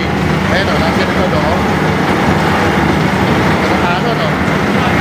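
Ferry engine room on a Greek crossing from Athens toward Corfu, with a loud, constant, dense mechanical roar and rumble filling the space close by, with no pauses.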